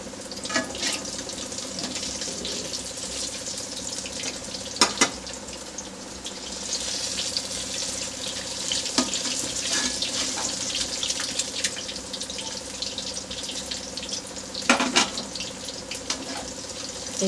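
Eggs fry in hot oil for iftar pakoras, giving a continuous close sizzling hiss with occasional sharp pops and crackles. No one speaks.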